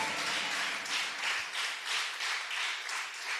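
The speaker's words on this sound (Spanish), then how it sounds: "Dale un aplauso a Dios." A church congregation applauds, a steady wash of many hands clapping that swells in rhythmic waves throughout, fairly loud and filling the space, with no voices on top.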